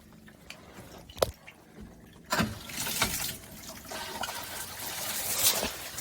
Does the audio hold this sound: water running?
yes